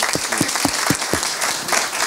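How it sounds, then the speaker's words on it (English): An audience at a talk on humanitarian negotiation gives a round of applause, a loud, full burst of clapping from the room with a few sharp, close claps standing out, continuous throughout. "So please, a round of applause for Nicola."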